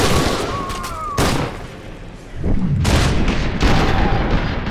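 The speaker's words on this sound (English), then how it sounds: "The automatic shotgun, which is actually a semi-auto, is a bit of a washout compared to the combat shotgun." Automatic shotgun in an FPS video game, actually semi-auto, firing three or four spaced, heavy booming shots with rumbling tails.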